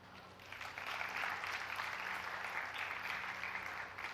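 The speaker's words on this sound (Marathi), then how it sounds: "टाळ्या झाल्या पाहिजे." An audience applauds steadily at a wealth-planning talk, a dense wash of many hands clapping that holds at an even level for several seconds, with no voices above it.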